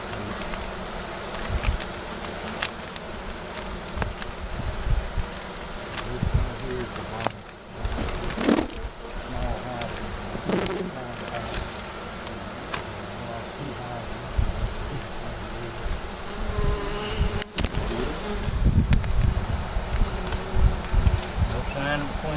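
A honeybee colony hums continuously in an established hive under a house, a moderate buzzing bed with rustles and occasional knocks as the comb is worked on.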